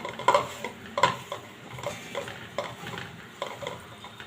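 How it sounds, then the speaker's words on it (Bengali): Washed soya chunks are worked together with salt, chili powder and turmeric in a bowl, giving a few soft, close clinks and scrapes of hand and utensil against the dish, with no talk. "এখন ভালোভাবে মেখে নেব"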